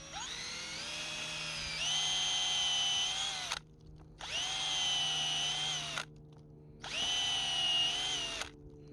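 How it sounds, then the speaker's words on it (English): A power drill whines in three bursts of a few seconds each, separated by short pauses, its pitch rising slightly as the bit bites into a living walnut tree, drilling a tap hole. "then drill at a slightly upward angle"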